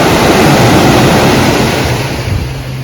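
Sea waves wash in continuously at Batu Ferringhi beach in Penang, Malaysia, a broad steady roar of surf that stays loud throughout before easing slightly near the end, with no talk.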